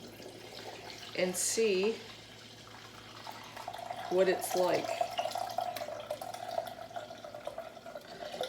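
Homemade apple cider vinegar is poured through a small plastic strainer with soft trickling and dripping, and a faint liquid stream continues steadily while a person talks over it.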